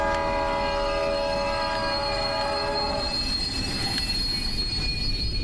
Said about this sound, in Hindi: ट्रेन अपने आप रुक गई क्या?